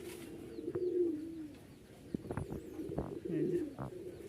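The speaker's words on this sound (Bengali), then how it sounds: "এই যে দেখেন কবুতর জোড়াটা মাশাআল্লাহ খুবই সুন্দর।" A pair of Rajshahi Giribaz pigeons coos in several soft, rolling phrases at close range, with pauses between calls and faint background noise.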